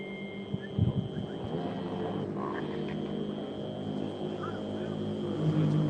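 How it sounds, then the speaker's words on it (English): A propeller plane passes overhead outdoors in New Orleans, a steady droning hum with a faint engine whine that holds throughout and swells slightly toward the end, with brief low thumps and faint background voices. "That's a plane right there"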